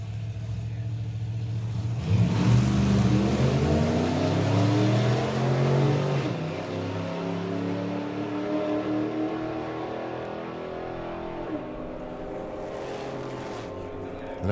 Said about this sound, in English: that's Steve Warnes with the grey Willys